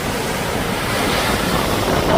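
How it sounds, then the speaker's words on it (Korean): Ocean waves wash onto Sokcho beach in a continuous loud roar of surf, heard close with wind buffeting the microphone, and no voices. "파란 물결이 넘실넘실대는 바닷가입니다."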